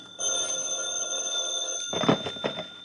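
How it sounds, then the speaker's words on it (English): Old-time radio drama telephone bell ringing in steady, fairly loud bursts, waking a sleeper; a sustained ring fills most of the span with a rattling burst near the end, no voices. "The phone woke me up."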